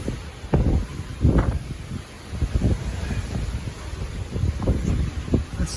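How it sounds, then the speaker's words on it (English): Strong wind gusts from Hurricane Ian in Central Florida buffet the microphone in heavy, uneven bursts, with a steady rushing roar underneath and occasional rustling. "It's very windy still."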